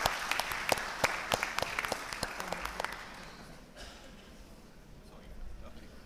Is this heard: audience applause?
yes